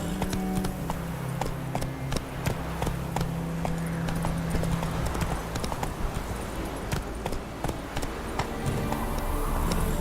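A horse gallops in The Witcher 3: Wild Hunt, rapid rhythmic hoofbeats pounding close and loud across the whole stretch with faint snorting and no clear talk.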